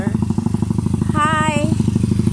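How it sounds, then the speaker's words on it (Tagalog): A single motorcycle passes oncoming on a rural road, its engine putter heard up close over the steady rumble of the recording vehicle, rising briefly in pitch as it goes by. "May motor tayong makasalubong na single motor."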